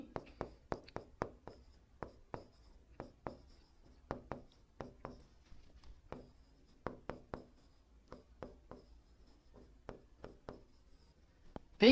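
Pen writing an answer on paper, a close series of quick scratchy strokes and taps in irregular rhythm, quiet and continuous for the whole stretch.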